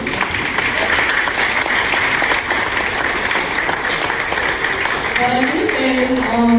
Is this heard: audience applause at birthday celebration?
yes